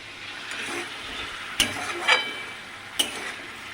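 Bitter gourd and potato peels frying in a pan, a steady soft sizzle with a few sharp scraping stirs of a spatula standing out, close and alone.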